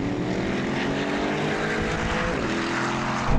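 A BMW M5 CS, Audi RS6 GT and AMG E63 S accelerate hard in a drag race, a loud, close roar of engines rising steadily in pitch through a gear change with heavy wind rumble.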